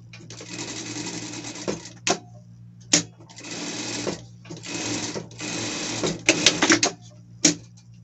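A sewing machine runs a seam on a costume in several short bursts of fast, buzzing stitching separated by brief pauses and sharp clicks, close and clear.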